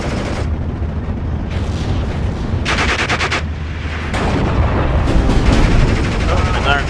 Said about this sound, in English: now the MG's gonna fire over here. Their mortar over here.